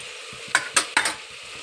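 Spiced masale bhaat rice being stirred in a pan with salt: three quick scraping strokes of a spoon over a soft background sizzle, brief and close, no talk.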